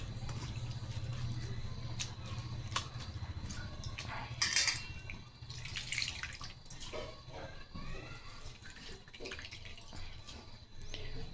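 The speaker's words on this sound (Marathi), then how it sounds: "आता ही थंड पाण्यात धुवून घेऊ" Cooked greens are washed in water, with gentle sloshing and splashing and light clinks of a vessel over a low steady hum, fairly quiet.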